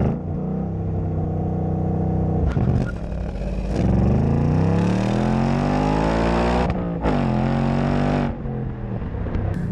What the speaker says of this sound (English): Let's do a cheeky launch.